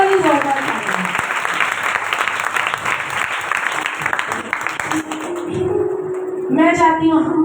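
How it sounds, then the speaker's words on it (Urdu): Loud applause from an audience at a sermon on wealth fills the room in a sustained, dense roar of clapping, while a voice speaks over it and carries on as the clapping fades near the end. "اپنے لیے ایک دفعہ زوردار تالیاں بجائیں، زوردار، صحیح والی زوردار تالیاں۔"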